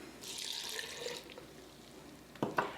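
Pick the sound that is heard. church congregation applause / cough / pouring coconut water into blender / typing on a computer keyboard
pouring coconut water into blender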